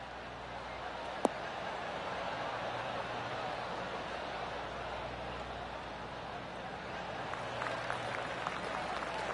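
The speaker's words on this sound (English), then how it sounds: "Oh, golf clap. That's a beauty." Spectators applauding politely in a PS4 golf video game, a steady soft spread of distant clapping filling the whole stretch, with one sharp tap early on and a commentator's voice at times over it.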